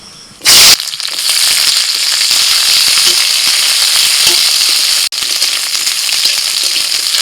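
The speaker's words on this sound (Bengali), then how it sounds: "কড়াইতে অল্প সর্ষের তেল দিয়ে দিয়েছিলাম ওর মধ্যে দিয়ে দিচ্ছি ক্যাপসিকাম আর পেঁয়াজ" Capsicum and onion dropped into hot mustard oil in a kadai burst into a loud, close sizzle after a sharp thump, then fry with a steady, dense crackling hiss that briefly cuts out near the end.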